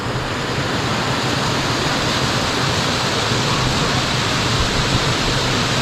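Water flowing at Giddy Creek in East Arnhem Land makes a steady, loud, continuous rush that fills the whole clip with no voices.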